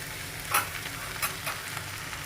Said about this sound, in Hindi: हरी हरी भिंडी थोड़ी देर ना स्टीम में फ्राई होने दो